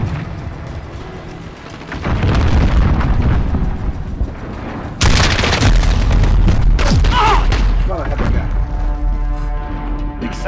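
A cruise missile strike in Call of Duty Modern Warfare, heavy booming explosions with rumbling crashes, loud and close, a second big blast hitting midway, with faint game chatter underneath.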